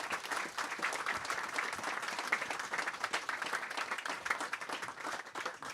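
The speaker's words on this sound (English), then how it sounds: "So let's give Craig a round of applause" An audience at a book launch gives an author a warm round of applause, with continuous, full clapping from many people that holds steady and close.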